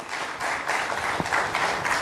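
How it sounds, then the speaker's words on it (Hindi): A crowd at a public event applauds to welcome the state's deputy chief minister and home minister, a steady wash of clapping lasting a couple of seconds at moderate loudness. "तालियां बजाकर पहले तो इनका स्वागत कीजिए"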